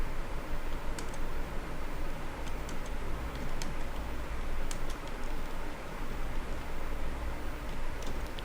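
Values being typed on a computer keyboard into Microsoft Excel, a run of light irregular key clicks under a constant hiss of background noise, with no speech.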